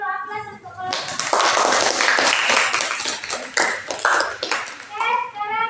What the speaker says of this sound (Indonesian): berikan dulu aplaus untuk kelompok 1